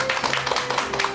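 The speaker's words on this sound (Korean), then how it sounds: "큰 박수 부탁드립니다" A studio audience claps for a guest lecturer, a classics critic, on a Korean talk show: a short burst of dense, even applause, loud and close, with no voices.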